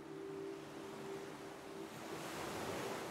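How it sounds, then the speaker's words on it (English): Ocean waves washing in as a soft continuous surf hiss, swelling slightly toward the end, heard alone with no talking. "Listen to the waves"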